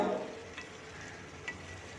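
Pumpkin pieces being stir-fried in a pan for a prawn curry, a soft steady sizzle with a couple of light spatula scrapes, close and quiet with no talk.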